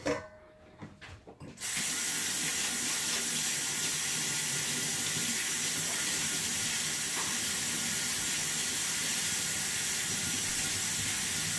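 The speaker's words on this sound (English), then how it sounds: "Wash my hands." Tap water runs steadily into a sink during handwashing, starting after a few brief clunks and then holding a loud, even, continuous gush to the end.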